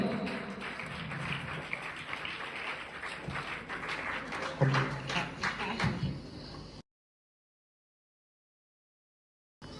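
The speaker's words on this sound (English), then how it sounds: "please give me a round of applause" An audience at an English Is Easy Academy awards event claps in a dense, steady round of applause for about seven seconds before it cuts to silence.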